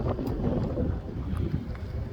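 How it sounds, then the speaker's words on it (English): Strong outdoor wind buffeting the microphone at an outdoor shooting session, a low, steady rumble with gusty swells and no talking. "It's windy as hell today."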